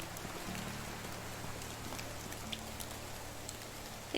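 Heavy rain patters steadily over a medieval village in the game Medieval Dynasty, a soft, even wash of drops with a faint low hum beneath and no speech.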